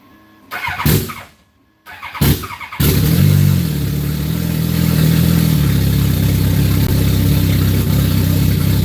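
An ice-cold engine cranks twice with short bursts, then catches and settles into a loud, steady startup idle close by.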